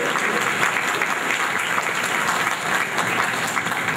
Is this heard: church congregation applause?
yes